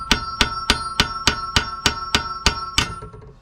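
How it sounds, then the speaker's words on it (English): Hammer blows knock out a tie rod on a Honda Civic, nine sharp metallic strikes in a steady rhythm about three per second, loud and close with ringing decay after the last. "we can get our good old hammer and just hammer out the tie rod"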